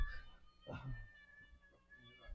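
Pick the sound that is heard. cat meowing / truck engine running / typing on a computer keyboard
cat meowing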